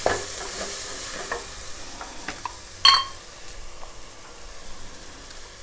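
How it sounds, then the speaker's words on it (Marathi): Masala spice mix sautéing in hot oil for Konkani prawn rice (kolambi bhat), a soft steady sizzle with occasional stirring scrapes and one sharper clink of utensil, fairly quiet and close. "हे बघा, 2 चमचे मी हा मसाला घालते। आपण चांगला परतून घ्यायचा तेलावर।"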